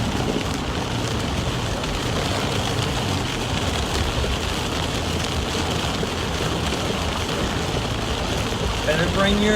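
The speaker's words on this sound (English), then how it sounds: "It's raining a lot, actually." Heavy rain pours down outdoors in a loud, steady broadband roar that never lets up, and a voice can be heard briefly under the downpour.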